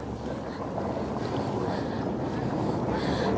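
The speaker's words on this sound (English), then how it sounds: "There's another boat." A boat motor drones steadily nearby with wind buffeting the microphone, a continuous low rumble over water.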